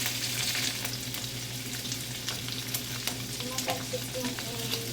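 Oil spatters and sizzles hard in a pan while asparagus and shrimp are stir-fried, a dense steady crackle with sharp pops scattered throughout, close and loud.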